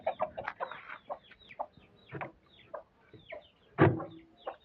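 Hens and a rooster cluck on a small farm, a steady run of short, soft calls at close range, broken by one louder squawk near the end.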